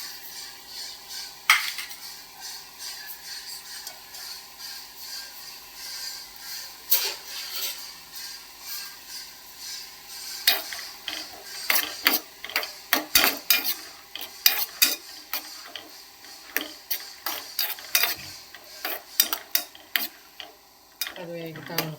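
Cashews in ghee stirred in a pan for sweet pongal: sparse metallic clinks of a spoon against the pan at first, then quicker, denser scraping and tapping strokes, close and sharp.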